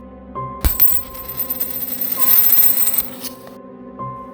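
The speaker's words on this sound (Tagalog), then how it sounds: "May naririnig silang mahinang galaw at parang may gumugulong na barya sa kanilang kwarto." A coin drops and rolls across a hard floor in a quiet bedroom at night, a sharp impact followed by a few seconds of close, clattering, spinning rattle that fades out alone.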